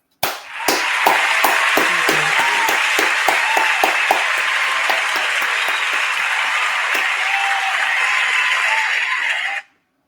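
Dense crowd applause with cheering fills the air at the open of a skating show episode, sharp claps piling up over a steady roar, loud and sustained for about nine seconds before cutting off sharply.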